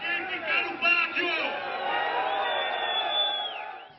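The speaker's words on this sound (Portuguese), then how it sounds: "Uma vaia para quem ficar no pátio!" Crowd of company workers in a yard booing loudly together, a sustained jeering roar of many voices with whoops rising and falling over four seconds, close and continuous.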